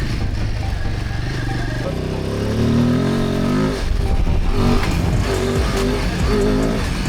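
A motorcycle engine drones steadily and loudly, its pitch climbing and revving as it rides along, with wind rush throughout and no talking.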